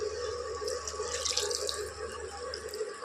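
A cup of water poured into a pan of raw jackfruit masala, a steady close splashing pour with a brief brighter gush partway through, over a low kitchen hum.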